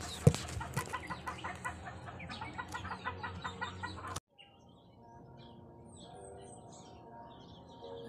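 Backyard chickens cluck and call repeatedly, up close and fairly loud for about four seconds, then a softer, quieter stretch of fowl murmuring and distant bird sounds follows.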